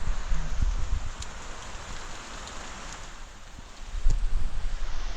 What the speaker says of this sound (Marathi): पाऊस थोडासा जास्ती पडतोय